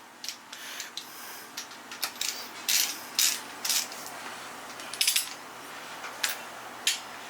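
Ratchet tightening connecting rod bolts on a Toyota 7M engine during a piston swap, heard as scattered metallic clicks and short clacks at an irregular pace over a steady background hiss.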